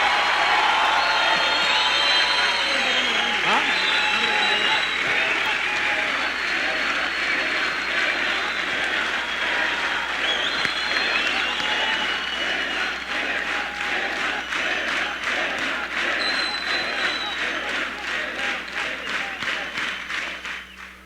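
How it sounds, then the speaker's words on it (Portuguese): A large audience at a political party congress claps in sustained, dense applause, loud and continuous with some cheering mixed in, before the clapping thins toward the end. "A salva de palmas que eu peço não é para mim, para o meu discurso, para ninguém."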